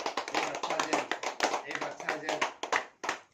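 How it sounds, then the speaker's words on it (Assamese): A group claps hands together in a blessing gathering, bursts of close, uneven slaps that fill the clip with short gaps, voices faintly mixed in. "সকলোৱে আমি এটা হাত চাপৰি বজাম"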